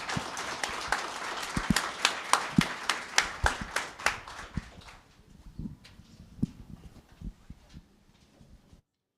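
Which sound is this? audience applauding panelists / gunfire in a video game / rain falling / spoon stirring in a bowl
audience applauding panelists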